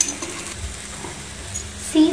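Kidney bean (rajma) paratha cooking on a pan, a quiet steady sizzle with faint scraping and stirring-like rustles, plus a brief louder clatter near the end.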